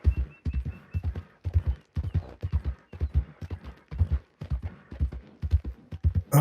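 A horse's hooves clip-clop in Red Dead Redemption 2 Online, a close, steady rhythm of dull paired thuds that keeps an even pace for the whole stretch with no talking over it.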